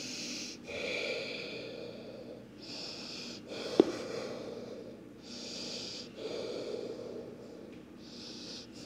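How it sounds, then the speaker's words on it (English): Slow, deep breaths in and out during a yoga pose, heard close and audible as long airy inhales and exhales separated by pauses, with a single sharp tap midway. "Aiming for 5 deep breaths here."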